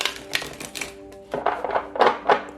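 Tarot cards are shuffled in quick riffling bursts of crisp clicks, close and fairly loud, pausing briefly mid-way, over a faint steady background tone.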